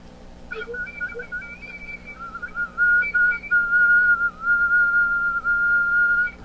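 A thin, high flute whistle tone, a flute's highest register above the overblown tone, sounds in short bursts then holds longer, faint and airy with a breathy edge.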